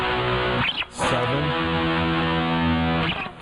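A distorted electric guitar plays a held, sustained riff with sliding chord changes, loud and thick, with a brief dip in the middle before it rings on.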